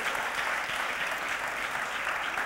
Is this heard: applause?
yes